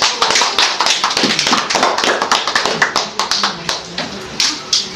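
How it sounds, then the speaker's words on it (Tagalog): Guests clap together at a house blessing, a dense run of sharp hand claps with a steady rhythm, close and loud, with bits of voices mixed in. "Malakas na palakpak."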